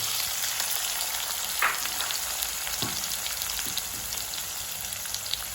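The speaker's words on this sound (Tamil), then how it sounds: "அதோட வந்து வெங்காயத்தை போட்டு அதெல்லாம் மிக்ஸ் பண்ணுவாங்க." Onions and mustard seeds fry in a pan for a spicy Jaffna-style chicken curry, a steady broadband sizzle throughout with a couple of soft scraping stir strokes near the middle.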